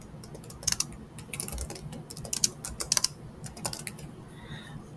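Rapid keystrokes on a computer keyboard, close and crisp, arriving in irregular bursts with short pauses between words, with no voices.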